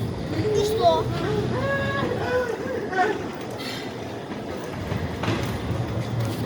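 A rail vehicle rumbles and clatters past nearby, a continuous rolling drone with metallic clicks, while children's voices chatter over it.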